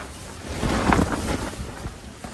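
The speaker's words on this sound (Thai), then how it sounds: "ลมพัดโหมกระหน่ำให้ไม่หยุดเลยนะครับทุกคน" Strong storm wind gusting around a tent at a forest campsite near a border, a steady broad rushing roar that swells in the middle and keeps blowing without pause, no voices.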